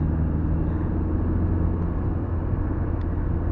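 A car driven fast at night, heard from inside as a steady, loud low rumble of engine and road noise that holds constant for a few seconds without voices.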